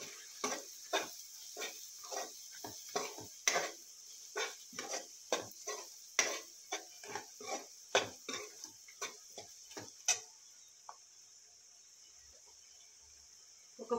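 Masala with a pinch of turmeric frying in a pan for a Telugu-style fish curry, with a steady high sizzle under a rapid run of ticking spoon scrapes and taps that stop partway, leaving the sizzle alone.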